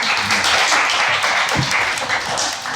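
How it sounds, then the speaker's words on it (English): An audience claps steadily throughout, a dense sustained patter of many hands, fairly loud and continuous. "Give Georgia a round of applause."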